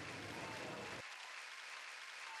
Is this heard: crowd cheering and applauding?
yes